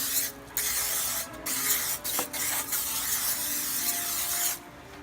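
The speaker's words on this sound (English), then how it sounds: "non-stick cooking spray." Butter-flavor non-stick cooking spray hissing from an aerosol can into an oven-safe baking dish before baking no-knead bread, in several short close bursts with brief pauses between.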